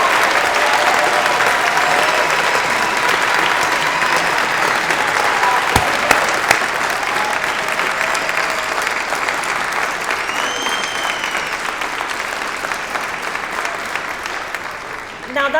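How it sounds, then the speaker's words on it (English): A large graduation ceremony audience applauds in a long, dense, steady roar of clapping that fills the hall, close and loud, tapering slightly toward the end. "can I just ask you to give them a big round of applause?"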